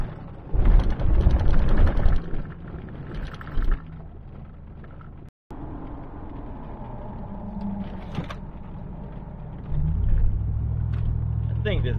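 A vehicle climbs straight uphill on a washboard-rutted dirt road, with steady low engine rumble and rattling bumps, and louder jolts early on. A person talks over the noise for much of the time.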